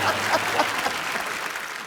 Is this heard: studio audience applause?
yes